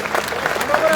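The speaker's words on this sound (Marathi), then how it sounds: "प्रचंड टाळ्या वाजून दादांचं स्वागत आपण करायचं." Crowd applause greeting a leader at a hunger-strike gathering in Jalna, a dense steady clapping from a large audience filling the whole moment.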